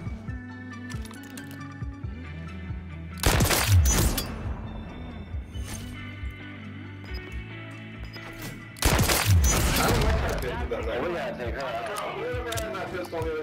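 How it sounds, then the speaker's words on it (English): Two sharp, loud volleys of hand cannon gunfire ring out in the Modern Warfare 3 video game, a few seconds apart, amid excited talking and quieter in-game sounds. "It's the hand cannon, bro. The freaking hand cannon."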